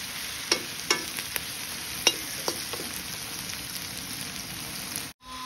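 Onions fry in a pan while they brown, a steady close sizzle broken by several sharp clicks of stirring against the pan, ending with a brief clatter.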